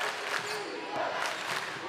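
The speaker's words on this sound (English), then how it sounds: "Boy, quite the crowd tonight. It's going to be an energetic gym." A crowd fills a high school basketball gym during a boys' WIAA regional final between the Oregon Panthers and Monroe, giving a dense, steady murmur and cheer with faint bursts, and no clear talk on top.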